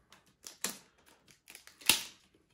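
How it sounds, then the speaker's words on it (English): Cellophane wrap is peeled off a perfume box by Afnan in a handful of quiet, close crinkles and tearing crackles, with one sharper rip near the end. "that cellophane was stuck on there pretty good"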